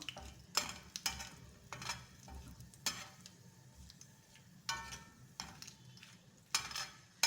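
Whole spices such as cardamom, cinnamon and cloves fry in oil for a dhaba-style egg masala, with a soft continuous sizzle under repeated sharp scrapes and clinks of a spoon stirring in the pan.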